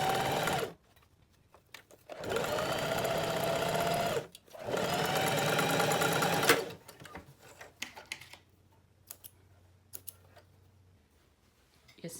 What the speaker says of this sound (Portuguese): Você também vai costurar a margem de 1 centímetro.